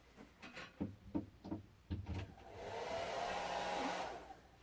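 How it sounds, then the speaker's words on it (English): A few clunks and handling knocks, then a hair dryer switches on and blows on low, hot with a steady whooshing whir that fades out, heating a doll's limb. "So, I will put my hairdryer on high, hot, well, maybe low so I don't blow everything around."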